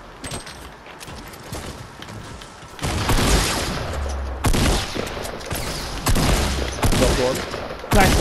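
Loud, sustained bursts of automatic gunfire from a shooter video game, several rapid volleys following a quieter opening, with a player's voice talking under the shots.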